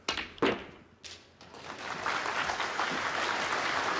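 Snooker crowd applause at the Shanghai Masters final, starting with a few scattered claps and swelling into sustained, steady clapping.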